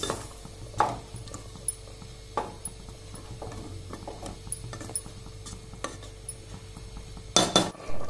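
A spoon clinks and scrapes against a pot while mixed vegetable tahari is stirred, making irregular metallic taps and knocks over a soft simmering background, with a cluster of louder clanks near the end.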